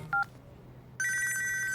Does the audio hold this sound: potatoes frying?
no